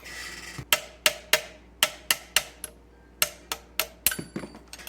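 A hammer strikes a stuck part while a Kenmore 117 sewing machine is taken apart, producing about fifteen sharp metallic knocks in uneven bursts, close and loud, with no talking.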